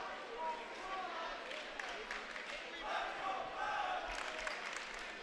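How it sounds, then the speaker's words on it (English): Rutgers Prep fans chant at a high school state semifinal basketball game against St. Joe's in a gym. The chant is faint, thin and distant and runs steadily throughout under general crowd noise. "That is a very weak chant from the Rutgers crowd trying to answer back to the obviously very great Falcon flock"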